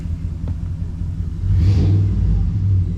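A Jeep Commander fitted with an MBRP cat-back exhaust idles with a deep rumble, then its engine revs up into a louder, throaty growl that holds and settles slightly, heard close and alone.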